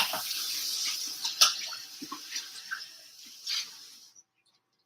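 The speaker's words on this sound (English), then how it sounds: "we're going to rinse out this cup" Water runs from a kitchen tap to rinse out a cup, a steady hiss with splashes and small knocks, fairly quiet, then stopping abruptly near the end.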